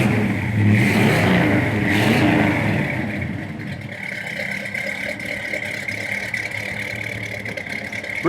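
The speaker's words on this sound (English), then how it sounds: "It's got a great running 350 underneath the hood, good sounding dual exhaust" A 1953 GMC five-window pickup with a 350 V8 and dual exhaust revs up loudly at close range, then settles into a steady, slightly lumpy idle.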